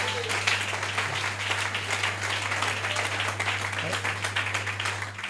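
Congregation applauding in church, a steady, moderately loud patter of many hands clapping continuously, with a low constant hum beneath.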